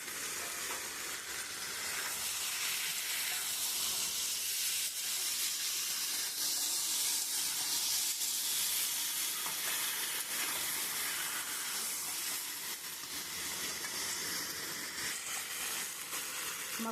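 Fried boiled eggs go into a sizzling spice masala with jackfruit (echor) for an egg curry, giving a loud, steady, close frying hiss with stirring scrapes throughout and no talking.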